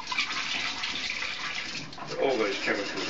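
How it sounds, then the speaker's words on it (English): Water pours steadily out of a film developing tank into a sink during home black-and-white 35mm film processing, a continuous broadband splashing and gurgling that swells slightly near the end. "I'm just going to pour away this water."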